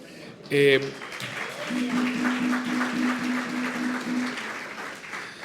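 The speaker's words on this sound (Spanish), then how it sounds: "Pero fíjense, ustedes aplauden" A church congregation applauds steadily for several seconds, a dense, fairly loud clapping that fills the space, with a brief voice at the start and a sustained tone running under the clapping.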